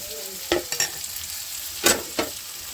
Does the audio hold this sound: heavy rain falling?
no